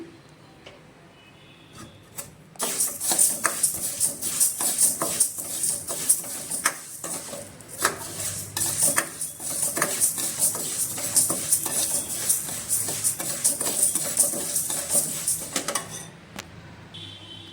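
Dry ingredients scraped and stirred around a hot pan, a steady gritty rasping with frequent clicks, close and continuous for most of the clip, no talking.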